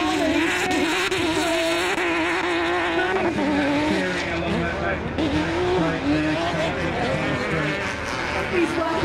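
A race car engine screams and surges through gears at the Goodwood Festival of Speed 2019, loud and close, with tire squeal and a voice talking over it.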